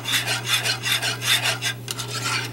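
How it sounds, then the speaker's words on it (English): Turkey pan drippings whisked into gravy in a pan, giving a steady rhythmic scraping and rasping of the whisk in repeated strokes, close and fairly loud with no talking. "And we'll go ahead and whisk that in as well."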